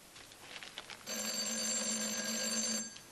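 An electronic doorbell rings in a single sustained buzzing tone lasting nearly two seconds, following a few soft indoor knocks or shuffles, with no talk over it.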